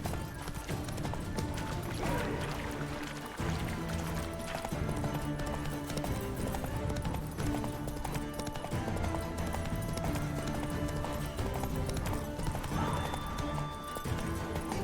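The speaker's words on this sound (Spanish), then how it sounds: "Pánico del caballo." Hooves clip-clop at a fast gallop while Roach, a horse in The Witcher 3, panics and whinnies over a dense game soundtrack and ambience, loud and continuous for the whole stretch.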